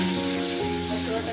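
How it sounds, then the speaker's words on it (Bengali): Tengra fish frying in oil, a steady sizzling hiss running under prominent tuneful background music for the whole moment. "মাছগুলো আমি ভেজে নেব"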